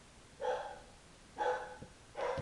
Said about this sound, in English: and then the dog barks